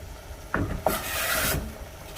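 A utensil scraping and swirling through a pot of pasta in boiling water, two quick strokes followed by a longer sustained stir, close up with no talking.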